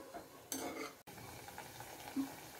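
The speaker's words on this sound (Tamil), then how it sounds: "ஒரு வடை ஃப்ரை ஆகிட்டுருக்கு" A moong dal vada deep-fries in hot oil with a quiet, low sizzle, a short louder burst of bubbling and utensil clatter, then a brief gap.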